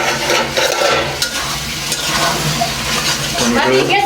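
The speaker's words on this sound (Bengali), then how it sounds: "টমেটোগুলো কষানো কাছাকাছি হয়ে আছে" Tomatoes for a koi fish bhuna are stirred and fried in a pan, giving a steady loud sizzle with spoon scrapes running throughout.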